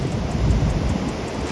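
Heavy, continuous roar of large surf washing in on an open coast at Sharp Peak, Hong Kong, with broadband rumble and gusty wind noise buffeting the microphone throughout.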